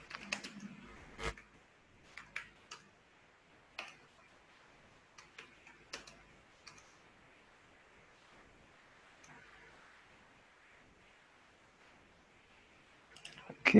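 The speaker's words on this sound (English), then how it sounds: "So you type the names." Typing names on a computer keyboard during an online Excel lesson: irregular bursts of close, crisp key clicks with pauses between words, fairly quiet, with no talking.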